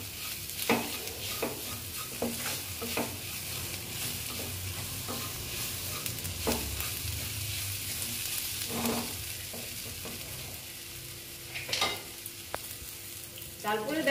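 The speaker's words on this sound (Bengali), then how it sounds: "দিয়ে অল্প আমি এটা ভেজে নেব।" Paneer bharta with chili powder fries in a pan, a continuous low sizzle broken by repeated scraping and tapping strokes of a spatula over about fourteen seconds, close and without speech.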